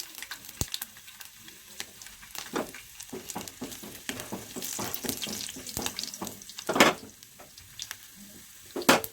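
Mustard seeds splutter and garlic fries in hot oil while tempering for a pickle, giving sharp irregular pops and crackles over a soft sizzle, with occasional louder bursts and clinks close by.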